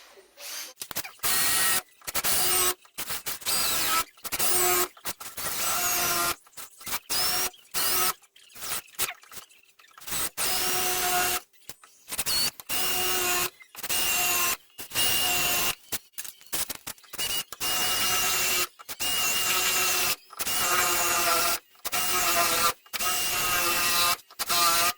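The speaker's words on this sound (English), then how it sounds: "I'll use a normal drill bit and just get these all started" A drill with a normal bit starts holes in the rear quarter panel of a Mexican VW Beetle, running in loud whining bursts with short pauses between, close and alone.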